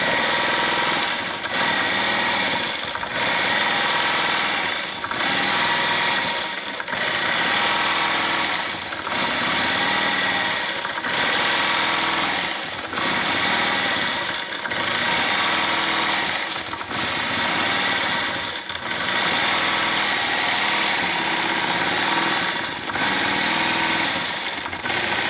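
Voyager longarm quilting machine stitching mountain-pattern quilting on a winter solstice quilt, a steady loud mechanical hum with rapid needle chatter, pausing briefly every second or so in a regular rhythm, no voices.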